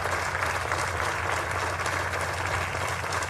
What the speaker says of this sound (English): Here's Trump coming out to the requisite applause